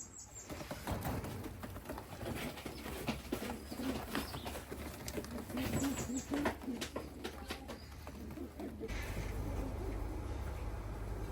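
Several male Modena pigeons coo in low, repeated throaty phrases, with a brief flutter of wings, close by against a steady background hum.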